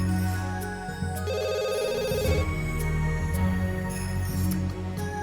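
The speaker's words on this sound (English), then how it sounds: "The phone is ringing, Sebastian." Telephone ringing in The Sims 2, a repeated electronic ring over steady in-game music, clear and sustained.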